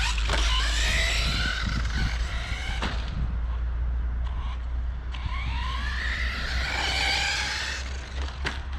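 A mini RC car with big wheels drives across grass, its small electric motor whining in rising and falling bursts over a constant low rumble.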